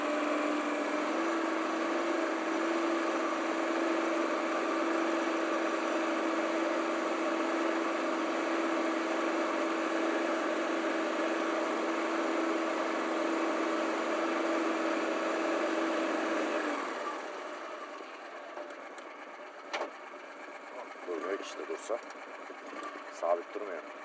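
An amphibious land-and-water vehicle's engine drones steadily and loudly for about seventeen seconds with a constant buzzing tone, then cuts off, leaving quiet clicks and knocks.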